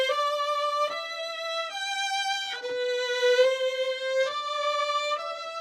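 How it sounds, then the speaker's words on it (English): Two layered violin tracks playing a slow sustained melody together, long bowed notes changing pitch every second or so, clear and dry with no other sound. "Just listen to what it sounds like if I only have 2 violins playing together."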